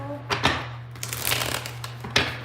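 Tarot cards are shuffled by hand in a few quick riffling bursts, close and crisp, separated by short gaps over a faint steady hum.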